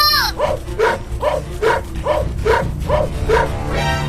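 A cartoon dog barks in a quick, even run of about eight sharp yaps, loud and close, with no other voices over it.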